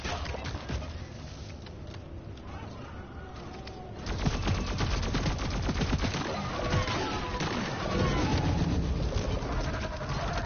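Gunfire rattles through Deep Rock Galactic: a fast stream of shots that grows louder and denser partway through and keeps going as sustained automatic fire, with chattering in-game effects layered over it and no talk.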